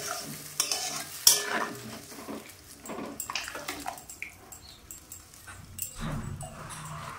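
Fish curry with coconut being stirred in a pan after hot water is added, giving soft scraping and gentle watery sizzling with a sharper clink near the start; no talking.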